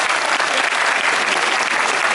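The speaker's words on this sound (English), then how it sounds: "Everybody, let's give Leslie a big old round of applause." An audience claps warmly for a volunteer named Leslie at a Universal Studios Los Angeles special effects show, a dense, steady round of applause that holds at full strength throughout.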